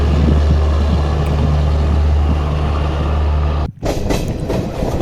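An Intercity Superfast Express pulls out of Sabarmati Junction, a loud, even rail rumble filling the first few seconds before a sudden break leaves a choppier, lighter rolling noise.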